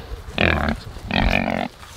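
Two loud, close grunting calls from pigs, each lasting about half a second, separated by a short pause over faint background noise.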